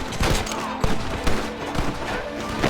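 A Red Dead Redemption gunfight crackles with repeated close gunshots in an irregular rapid fusillade, loud and steady, with a voice briefly heard among the shots.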